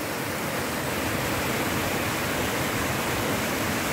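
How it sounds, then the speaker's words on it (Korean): A clear mountain stream rushes in a countryside valley with spring flowers, giving a steady, dense wash of flowing water that stays constant and fairly loud throughout with no voices. "시원합니다. 물소리만 들어도."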